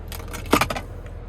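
A Cadillac OPTIQ key fob with remote start jingles briefly in the hand, a short bright cluster of metallic clinks up close over a low background hum.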